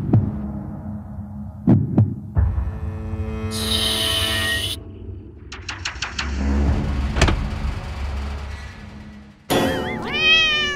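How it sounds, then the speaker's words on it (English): A cat meows a few times amid rustling and shuffling, with a low hum underneath and a brief high hiss partway through. "It's a cat!"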